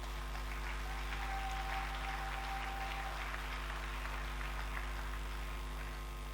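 Church congregation applauding, a steady patter of many hands clapping at moderate distance over a low electrical hum, with no talking.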